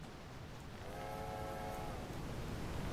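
A train whistle in a snowy train-driving video game sounds as a faint, steady tonal blast over a dense, continuous rumble of the running train.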